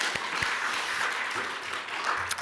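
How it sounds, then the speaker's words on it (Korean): A church congregation claps together at a Sunday worship service, a steady wash of applause filling the room for a couple of seconds with no voices over it. "주님께 영광의 박수 올려드리기를 원합니다."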